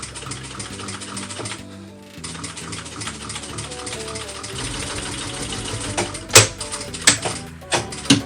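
A sewing machine stitching a cross bag, its motor whirring in steady runs with short pauses between, followed by a few sharp clicks and knocks near the end.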